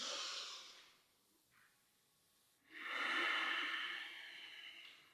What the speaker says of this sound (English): And you'll hear my breathing.